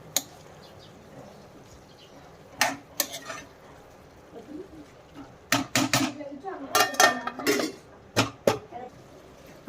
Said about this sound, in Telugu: మంచిగా మిక్స్ చేసుకుని మూత పెట్టేసి కుక్ అవ్వనిద్దామండి.